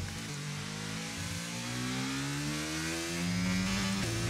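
A high-revving Alpine Formula 1 car engine in the video game F1 22 climbs through the gears, with a steady whining tone rising in pitch, heard close and continuous.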